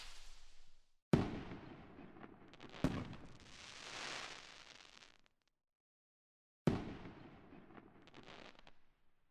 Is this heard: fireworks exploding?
yes